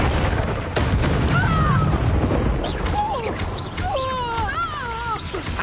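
Incendio fire spell cast in Hogwarts Legacy: a dull whooshing boom at the start, followed by a busy stretch of game combat noise with creature-like squeals and cries layered over it.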